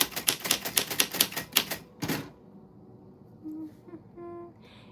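Rapid typing on an old typewriter: a fast run of sharp mechanical key strikes, then a carriage-return clunk, followed by quieter soft tones and near silence.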